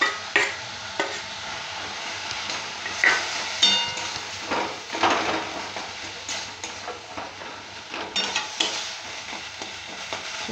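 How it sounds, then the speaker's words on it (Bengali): Boiled potato being fried and stirred in a pan as filling for paneer chops: a steady sizzle with scraping spatula strokes and light clinks, close and alone. "এবার আমি দিয়ে দেবো ওই সেদ্ধ করে রাখা এই টুকুটা আলুটা, এর মধ্যে দিয়ে আলুটাকে ভালো করে কষিয়ে নেব।"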